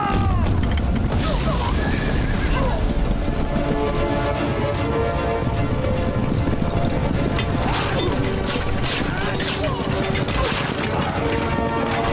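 Cannon fire in a battle scene from the movie Chaar Sahibzaade, deep booms and crashes over a continuous din of battle with horses neighing and hooves clattering, dense and loud throughout, with shouted voices mixed in.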